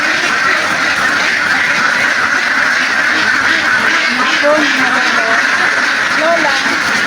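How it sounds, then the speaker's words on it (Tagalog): Hybrid ducks quack loudly and continuously in a dense, noisy chorus close by, filling the scene with overlapping calls. "Ingay itik."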